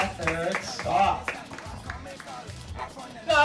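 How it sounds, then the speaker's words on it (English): An audience at a zoo bird show claps for flamingos in scattered, uneven bursts, with voices talking over the applause throughout. "please give the Flocos a big round of applause as they come to their third stop"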